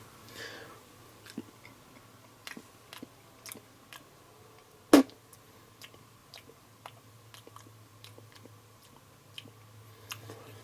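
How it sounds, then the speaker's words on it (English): Someone chews a fresh spearmint leaf up close, soft crunching bites and mouth sounds coming in irregular bursts, with one sharper click midway, over a quiet steady background hum. "I'm going to do a taste test of the spearmint."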